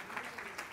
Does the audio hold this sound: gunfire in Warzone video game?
no